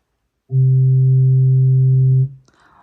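One soft, pure pipe organ note on the Flute 8' stop sustains evenly for nearly two seconds, mellow with few overtones, then releases into quiet room noise.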